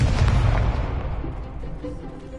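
Incendio fire spell cast in Hogwarts Legacy on PS5, a loud rumbling burst of flame that peaks early and then fades into a dense, booming roar over about two seconds.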